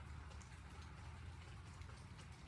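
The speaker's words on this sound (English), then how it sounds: "that rain sounds soothing. I don't know if y'all can hear that. It's raining right now." Steady rain falls outside, a soft, even patter that fills the whole stretch, faint and constant with no breaks.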